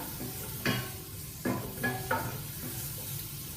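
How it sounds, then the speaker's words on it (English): Sausages browning in a pan for a sausage casserole give a low, steady sizzle, broken by a few sharp clatters as they are stirred and turned. The cooking sounds close by, and nobody speaks. "sausages are browned off quite a lot now"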